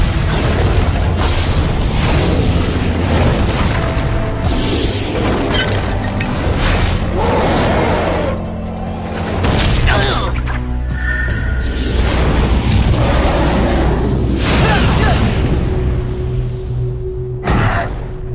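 Cartoon combined slug-fu shot erupting in a loud, sustained blast with booming bursts and whooshes layered under a dense action soundtrack for most of the stretch.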